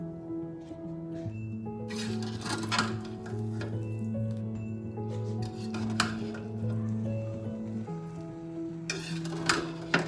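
A spoon stirs chicken fried rice in a pot, giving soft scrapes and metallic clinks at irregular intervals, fairly quiet beneath steady background music.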